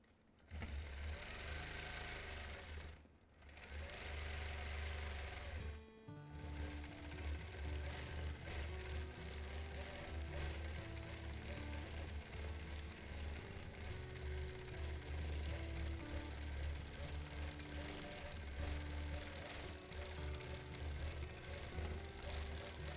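A quilting sewing machine stitches a quilt in a long, steady mechanical whir with rhythmic stitching, loud and close, briefly pausing twice near the start before running on without talk.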